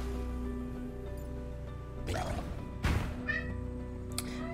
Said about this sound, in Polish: Nie wiem, skąd mi kot miauczy.